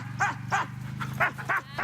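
Sled dogs bark in repeated, evenly spaced yelps, about six calls in under two seconds, heard over a steady low hum as though recorded outdoors near a kennel.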